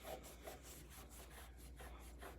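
Dried acrylic paint is scrubbed off a palette in faint, repeated back-and-forth rubbing strokes, heard close and quiet with a low background hum.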